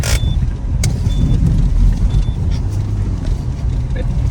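Loud, close interior road and engine noise as a car on summer tyres slides on a wintry road, a steady rumbling roar with brief faint clicks, with a voice speaking over it.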